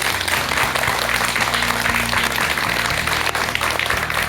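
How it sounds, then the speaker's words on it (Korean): Sustained, dense applause from a studio audience after a Korean lecture on Buddhist teachings, steady and loud throughout with a low musical tone running underneath. "여러분 박사님께 큰 박수 한 번 더 부탁드립니다"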